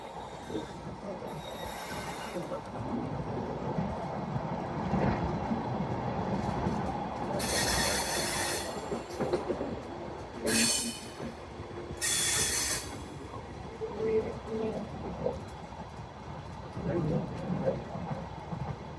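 Rupsha Bangla Express rolls along a new railway line beyond Bhanga Junction, rumbling steadily with clacking wheels and several short, sharp bursts of wheel squeal.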